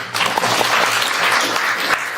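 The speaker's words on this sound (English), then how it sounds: "A round of applause, please." Applause from an audience at an anti-racism forum in Saint John, New Brunswick, a steady, dense clapping wash filling the room for about two seconds, loud and unbroken with no speech.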